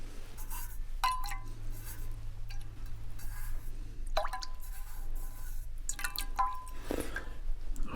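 A shaving brush dipped and worked in water for a 1940s-style razor shave, soft wet drips, squishes and occasional light clinks scattered over a quiet, steady background hum.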